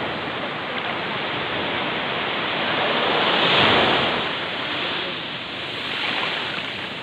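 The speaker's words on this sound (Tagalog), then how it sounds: "Wow, napakagandang dagat." Broadband surf washing onto Balino Beach in Quezon Province, a steady wash of sea waves that swells to a louder crest midway and eases again, with wind noise on the microphone.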